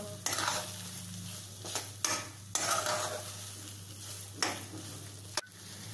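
A spoon stirs saffron milk into pineapple sheera, a semolina pudding, in a pan, scraping steadily beneath a soft sizzle, with a few sharper strokes against the metal.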